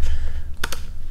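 Typing on a computer keyboard at a desk, a couple of quick clicky keystrokes standing out near the middle over a low steady background hum, close and alone without speech.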